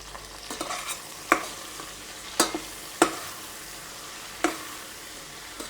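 Shrimp seasoned with salt, cumin, paprika and chili fry in oil as they are stirred, a low steady sizzle broken by a few sharp spatula scrapes and clacks against the pan, close and without talk.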